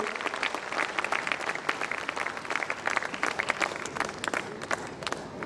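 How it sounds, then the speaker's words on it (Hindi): Loud, sustained applause from a crowd at a school annual function, dense clapping continuing steadily without pause. "सभी एक बार जोरदार तालियां बजाएं इनके लिए"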